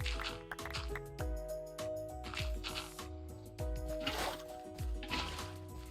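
In the Minecraft video game, water is poured back into a hole, making a quick series of soft, wet drips and splashy blips at a quiet level.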